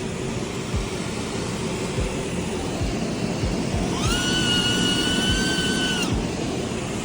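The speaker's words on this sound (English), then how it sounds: "Okay, dust collector check." A workshop dust collector runs at full tilt, a loud, steady broadband roar that fills the space. Near the middle a whining tone rises and holds before dropping away, and there is no talk.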